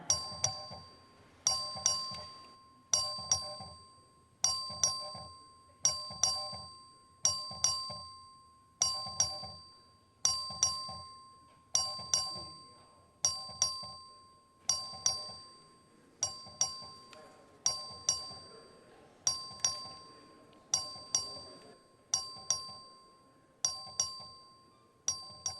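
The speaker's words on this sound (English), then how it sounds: "The clerk will ring the bell." A record-vote bell in the Texas House chamber, rung by the clerk, gives repeated bright ding-dong chimes at a steady pace of roughly one every one and a half seconds, continuing throughout over a low murmur of room noise.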